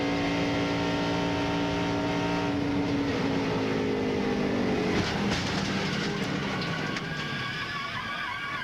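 NASCAR race car at Michigan during the 2001 Napa Online 250 passes with a loud engine roar whose pitch sweeps downward as it goes by, leaving a rumbling, rattling wash of track noise.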